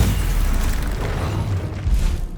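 A Confringo fire-spell blast from Hogwarts Legacy, a dense low rumbling boom that swells and holds for a couple of seconds, loud and close with no pause.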